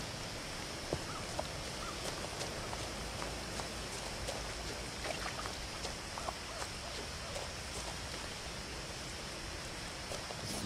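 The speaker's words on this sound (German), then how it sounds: "Das ist ein Wasserfall." A video game waterfall in What Remains of Edith Finch, near a bridge in a gloomy forest, gives a steady, even rush of falling water that runs on without a break at a low, distant level.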